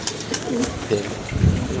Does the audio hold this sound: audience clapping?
no